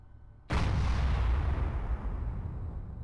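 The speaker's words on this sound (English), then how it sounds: "I'm going to put a shell through the window." A tank gun fires a shell through a window in the video game ArmA III, one sudden loud blast followed by a long rumbling decay with no voices.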